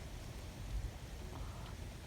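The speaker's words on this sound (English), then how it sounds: "Rain's starting to blow here" Steady broadband wash of rain falling outdoors during a summer thunderstorm with wind blowing, continuous and fairly faint throughout, with no talking.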